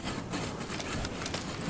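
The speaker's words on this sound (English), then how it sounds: "I just hear a malfunctioning jetpack." A malfunctioning jetpack in a video game gives off a faint, continuous sputtering, rattling hiss with no clear rhythm, heard alone.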